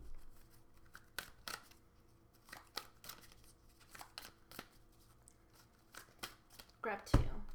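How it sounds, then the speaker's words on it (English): Deck of Black Moon astrology cards being handled and shuffled, soft close riffling, slaps and taps scattered through, faint and intermittent. "I'm going to grab Black Moon astrology cards"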